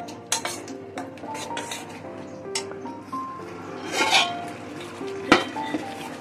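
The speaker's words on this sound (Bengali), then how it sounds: "আর জিরে পাউডার। মশলাটা কষা হোক।" Spice paste with coriander and cumin powder being sautéed in a pan, heard as clinks and scrapes of a utensil against the cookware, several sharp knocks standing out over a steady low background.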